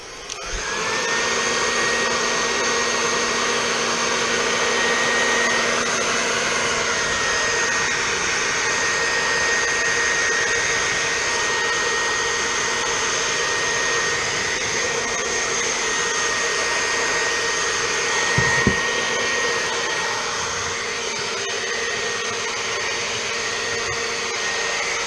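A heat blower warms an installation during a phone repair, producing a loud, continuous blowing roar with a steady high whine for the whole span and a brief knock near the end.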